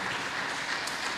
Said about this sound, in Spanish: Pues póngase de pie y brinde el mejor de sus aplausos al Rey de Gloria